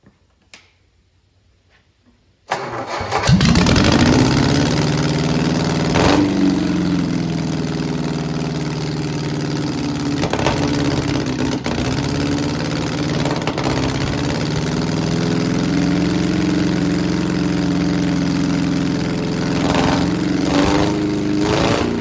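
An MGB parts-car engine sitting on a shop floor cranks after a quiet pause, then catches and runs steadily and loudly, holding a rough, even idle with small surges throughout.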